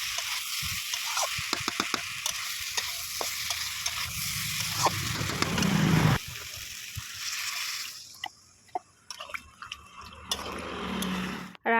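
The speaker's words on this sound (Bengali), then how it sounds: "প্রচণ্ড আগুন রয়েছে নামিয়ে নামিয়ে ভাজতে হচ্ছে" Vegetables and potatoes frying over a strong flame in a home kitchen pan, a steady sizzle with stirring and scraping noises, fairly close, no voices.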